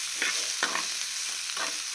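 Ivy gourd stirred and sautéed in a pan, a steady sizzle broken by three scraping strokes of a ladle, close and alone with no talk.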